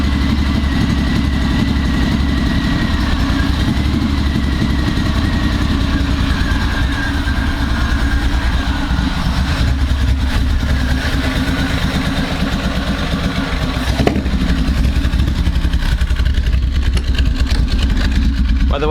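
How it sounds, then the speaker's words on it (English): A Reliant Scimitar engine idles roughly and unevenly, misfiring and not firing on all cylinders, with a steady loud low rumble throughout and brief voices in the background. "I think it's not firing on all cylinders at the moment."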